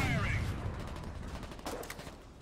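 Gunfire rattles in the war game Foxhole, a dense rapid burst of shots up close that fades into distant reverberating fire over a couple of seconds.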